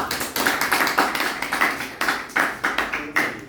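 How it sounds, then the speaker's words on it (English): A small audience claps for a professor after a talk, the uneven rhythmic bursts of individual hand claps close by, pulsing in short repeated waves for a few seconds without speech. "Please, another big round of applause for the professor."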